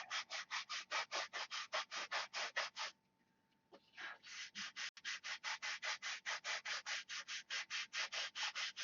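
A wooden trick rudder for a model plane is sanded by hand at a workbench in fast, steady back-and-forth strokes, a brief pause and a few knocks in the middle before the rhythmic rasping resumes, close and clear.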